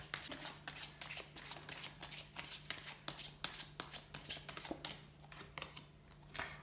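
Tarot cards are shuffled up close in a quiet room, making quick rhythmic riffling and snapping bursts that repeat steadily for several seconds.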